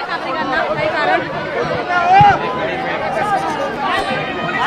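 Many people gathered outside the Worli Dome in Mumbai keep up a dense hum of overlapping conversation, with a few louder voices rising briefly out of the crowd noise.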